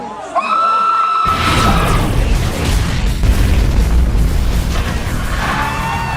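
A loud, sudden explosion in a movie trailer, a deep booming blast breaking in after a quieter opening tone and rumbling on densely for several seconds, with faint musical tones returning near the end.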